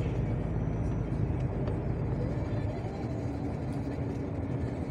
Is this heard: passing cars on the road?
yes